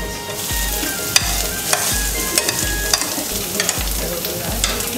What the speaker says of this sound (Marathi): अद्रक लसूणची पेस्ट कांदा आपला झालेला आहे ना. आता आपण पेस्ट टाकायचे.